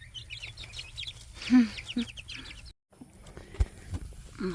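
Chickens cluck in a backyard coop: a close, lively mix of short clucks and chirps, with a brief quiet gap partway through.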